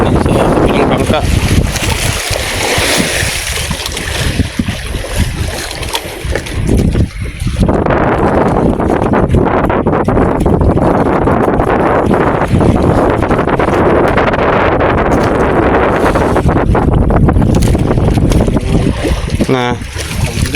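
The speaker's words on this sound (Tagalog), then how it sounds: "Bangka." Loud, constant wind and engine rumble aboard a small outrigger fishing boat (bangka) out at sea on a tuna trip, with water slapping the hull and a voice speaking briefly.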